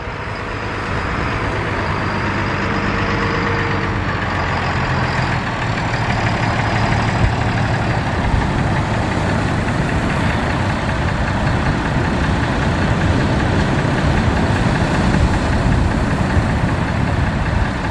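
Twin Yamaha 70 four-stroke outboard engines on the back of a Hellcat boat, idling in a constant loud low rumble and burble that holds steady throughout, with no talking.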